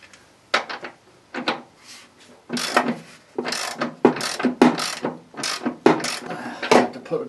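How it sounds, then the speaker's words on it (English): A wrench ratchets on a front suspension bolt of a Dacia Duster during reassembly, producing a series of clicking bursts in an uneven rhythm, close and fairly clear, with short gaps between strokes. "Put a torque wrench on it now."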